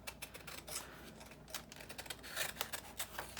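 Scissors snip through a paper window envelope, a close run of crisp, uneven cuts and rustling paper with no talking.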